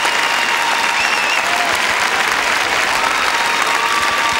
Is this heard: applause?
yes